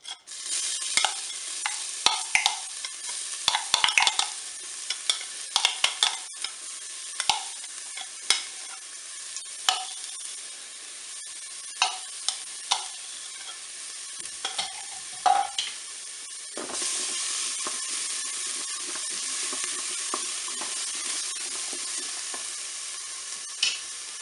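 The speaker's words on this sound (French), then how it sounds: "L'huile est chaude, donc on va pouvoir commencer à faire revenir nos échalotes." Shallots frying in hot olive oil, a continuous close sizzle broken by repeated scraping stirs against the pan, the hiss swelling louder in the final stretch.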